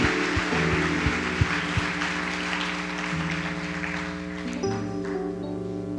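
Congregation applauding in a church, a broad wash of clapping from many hands under sustained organ or keyboard chords, steady and fairly loud.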